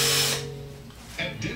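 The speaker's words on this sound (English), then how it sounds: "just aluminum, it's pretty easy to drill through." A power drill boring through aluminum on a revolver ARF model build, a close steady whine that fades out, then a brief renewed burst of cutting noise.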